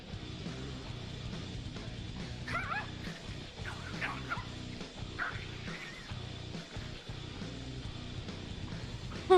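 A frightened Shiba Inu gives scattered yips and whimpers over a steady low background rumble, the dog's cries brief, mid-distance and fairly quiet.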